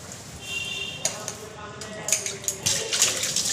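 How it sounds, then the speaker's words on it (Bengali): Scrubbing and rinsing a sink basin under running water, with a steady wash of flowing water and scattered scraping and clunking strokes close by. "বেসিনটাকে মেজে নিই, না মাজলে তোমার হবে না, জলে দাগ হয়ে যায়।"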